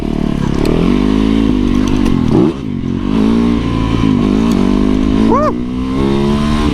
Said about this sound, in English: Take a little shortcut here on my dual sport, baby.